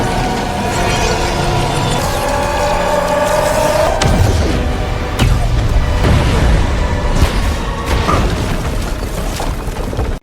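A film explosion set off by a crown worn by a character named Mail: a loud booming crash with shattering debris lands partway through, amid a dense, sustained dramatic soundtrack.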